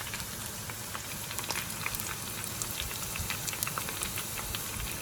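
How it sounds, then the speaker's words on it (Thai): Fresh garlic sizzles in hot oil for a Lao salad, a steady, fairly quiet hiss and crackle with scattered tiny pops throughout, alone without talk. "Fry fresh garlic."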